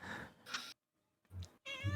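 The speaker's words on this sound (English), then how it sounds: "Did you hear that meow?" A cat meows a few times in short, close bursts separated by brief silences, with the calls fairly loud against an otherwise quiet room.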